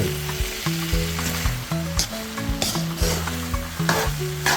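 Spaghetti stir fry sizzles loudly in a pan finished with sesame oil, a constant crackling hiss with a few stirring scrapes, under steady background music.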